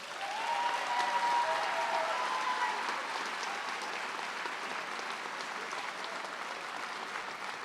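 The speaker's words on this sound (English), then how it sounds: "Let's give them a round of applause." Sustained applause from a large graduation audience in a hall, a broad wash of clapping that stays even throughout, with a brief whistle or cheer early on and no speech.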